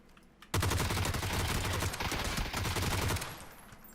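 Loud, sustained bursts of automatic gunfire with heavy recoil in a first-person shooter video game, a rapid continuous stream of shots that starts abruptly and runs about three seconds before cutting off.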